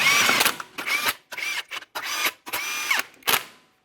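Power tool running down the 21mm wheel lug nuts on a 2008-2017 Mitsubishi Lancer, heard as six short whirring bursts separated by brief pauses, close and fairly loud with no talk.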